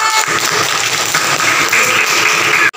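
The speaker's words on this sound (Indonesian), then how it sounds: "Tepuk tangan untuk kalian semuanya" Audience applause for the best group at a teaching session on the rules of reading mim mati, a dense steady wash of clapping that stays loud and even throughout, then cuts off abruptly near the end.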